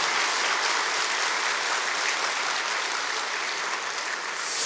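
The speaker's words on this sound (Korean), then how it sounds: "우리 남선교회 회원분들을 위해서 힘찬 격려의 박수를 부탁을 드립니다." A church congregation applauding after a call to encourage the men's mission group during a Sunday service, a dense, steady, loud burst of clapping that fills the whole clip without talk.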